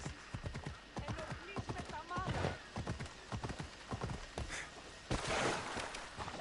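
Rhythmic clip-clop of horse hooves at a steady trot in the video game Assassin's Creed Odyssey, fairly close, with a brief whinny and a voice talking over parts of it.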